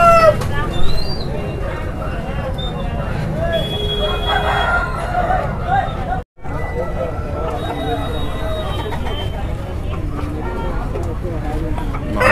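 Country chickens at a busy Sunday poultry market in Ongole cluck and crow repeatedly, with roosters calling out over dense, continuous crowd chatter and nearby voices talking.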